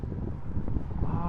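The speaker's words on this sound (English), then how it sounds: "this is windy. A little gusty." Gusty outdoor wind buffets the microphone with a steady low roar and a few stronger thumping gusts, close and fairly loud, with no talk.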